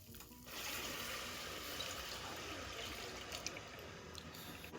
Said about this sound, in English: So now we're going to add in 2 cups of whole milk.